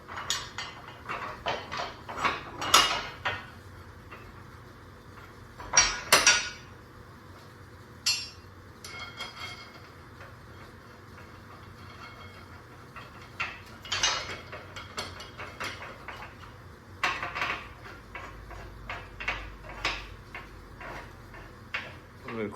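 On a 1969 Pontiac Firebird Trans Am subframe, a nut is run down an all-thread rod to compress the spring. Quiet, close ratcheting clicks come in short bursts with pauses, along with occasional metallic clinks and knocks.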